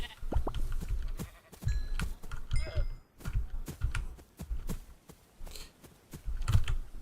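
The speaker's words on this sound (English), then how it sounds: "Sheep!" Sheep in Minecraft bleat several times in short bursts amid game sounds, with keyboard tapping heard in the background.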